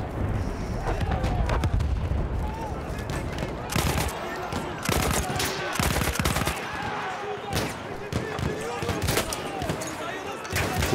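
Gunfire in the Battlefield 1 campaign, with repeated sharp shots and bursts, some near and loud, some distant, crackling across a busy battlefield while someone talks over the action.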